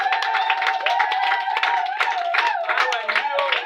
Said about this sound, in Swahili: Tumpe Bwana makofi